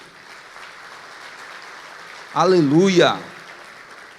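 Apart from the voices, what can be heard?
church congregation applause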